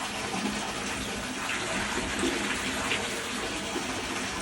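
Clean mountain stream water flowing steadily along the Kedarnath trail in the Uttarakhand mountains, a continuous broadband rush heard close and fairly loud with no one talking.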